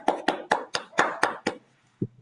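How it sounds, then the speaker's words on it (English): A short burst of clapping from meeting participants: seven crisp, evenly spaced claps close to the microphone, followed by a pause and one softer final thud. "So a huge round of applause for all of us once again."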